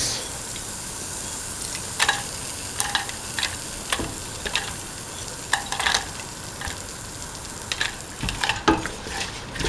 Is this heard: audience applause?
no